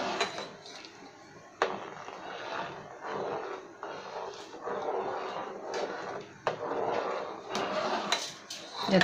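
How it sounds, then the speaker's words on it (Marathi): A spoon stirs rice kheer in a metal pot on a gas stove, with repeated scraping and clinking knocks against the pot in an uneven rhythm, close up, with no talk. "यातला तांदूळ शिजेपर्यंत आपल्याला हळूवारपणे ह्याला ढवळत राहायचं आहे"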